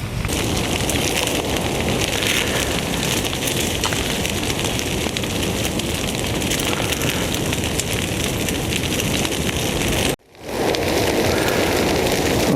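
A loud, dense crackling roar of a forest fire in Yakutia continues steadily, briefly cutting out near the end before resuming.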